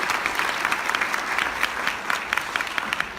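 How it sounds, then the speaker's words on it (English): A short round of audience applause for event partners and sponsors at a cannabis legalization conference. The clapping is moderately loud and steady, with individual claps flickering through the wash. "if we could just give a round of applause for our partners and all the sponsors who made this possible"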